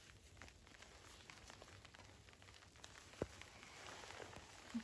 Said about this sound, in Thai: ฝนก็ตกมาอีกแล้ว